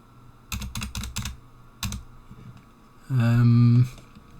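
Short bursts of typing on a computer keyboard, a quick cluster of clicky keystrokes followed by a few more taps, then a brief loud tonal hum near the end.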